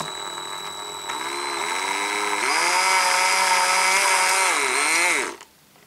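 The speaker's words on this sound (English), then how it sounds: "So let's go ahead and drill these holes." A power drill whirs up, boring holes in a Transformers Deluxe Barricade toy, its pitch rising and shifting, loud and close, then stops abruptly.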